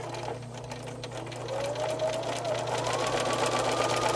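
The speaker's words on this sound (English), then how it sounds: "I'm just using a regular straight stitch for this French seam" A sewing machine runs a regular straight stitch along a French seam in sheet fabric, with a steady continuous mechanical hum that grows somewhat louder partway through.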